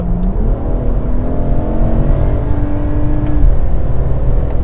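A Stage 3 tuned BMW 135i accelerates hard, its engine note climbing steadily in a loud, close, continuous pull with no voices over it.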